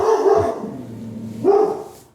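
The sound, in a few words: dog barking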